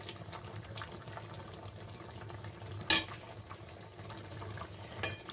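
Omelettes simmer in water in a covered pan, giving a faint, steady bubbling hiss, with one sharp clink partway through.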